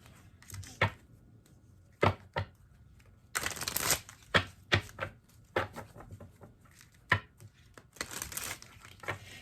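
A deck of tarot cards is shuffled in repeated bursts, crisp riffling and slapping snaps close to the mic, separated by short pauses.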